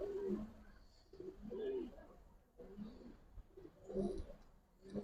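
A big female Giribaz pigeon gives several soft, repeated low coos in a steady rhythm, faint and close.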